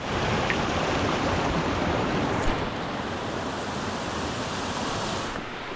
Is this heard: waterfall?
yes